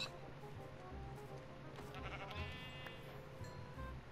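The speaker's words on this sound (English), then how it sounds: "Where did that sheep go?" Sheep bleat in a Minecraft hardcore survival world. A few short, quavering bleats come through faintly over soft, low game ambience.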